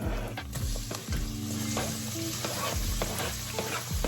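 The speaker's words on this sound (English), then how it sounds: "Now I like these to saute real good." Onions sautéing in a pan with a constant loud close sizzle and a few stirring scrapes, alone without talk.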